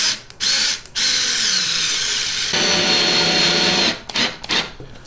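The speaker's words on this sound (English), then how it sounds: "We're screwing into wood and securing against plastic." A power driver sets screws into wood for a record player stand, with loud whining bursts from the close motor, a long steady run in the middle, and short stop-start pulses at each end.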